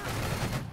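A single rolling burst of musket volley fire from the game Battle Cry of Freedom, a dense, loud crackling blast that briefly sustains and then trails off.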